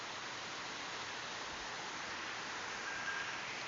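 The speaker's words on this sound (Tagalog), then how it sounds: "Rinig nyo ba ang boses ng ulan," Heavy rain pouring down in a dense, steady hiss of drops, continuous and fairly loud without pauses, heard alone with no voices.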